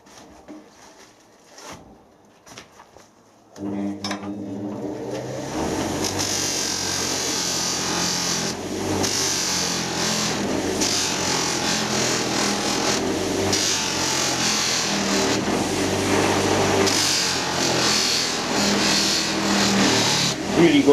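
A buffing wheel polishing the brass part of a lathe compound slide in a workshop: a few quiet knocks, then the motor spins up to a loud steady whirring hum with shifting grinding contact noise.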